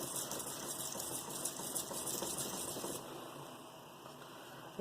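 A VG-10 steel knife is drawn repeatedly across a 400 grit whetstone, a steady, fairly quiet scraping hiss that continues without break, with no talking.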